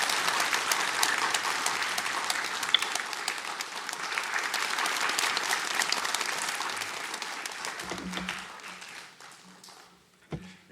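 A church congregation applauds to welcome a visiting pastor to the pulpit at a Sunday service, sustained full clapping that thins and fades over the last few seconds, with a short knock at the end.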